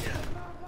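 Burst of rapid gunfire in a Call of Duty battle, dense and loud across the whole moment with no clear gaps between shots.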